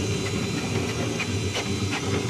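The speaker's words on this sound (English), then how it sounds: "Got the Berd air cooling the extruder." A Berd Air pump blows a steady stream of cooling air onto a 3D printer extruder with a Volcano block and Bozzle nozzle, a continuous close hiss with a soft low hum underneath and no talk.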